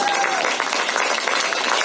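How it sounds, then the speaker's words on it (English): An audience at a talk applauds with a brief, dense burst of steady clapping. "So stand up and give them a hand of applause"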